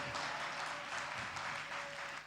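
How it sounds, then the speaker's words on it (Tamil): A church congregation claps together during a Sunday service, a dense, even wash of applause that carries on steadily throughout. "இந்த நல்ல தெய்வத்தை கைத்தட்டி ஸ்தோத்திரம் பண்ணுங்க பார்க்கலாம்."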